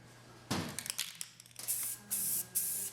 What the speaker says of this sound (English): Next I applied 2 coats of primer, and some of the parts I painted black, some of them I painted red.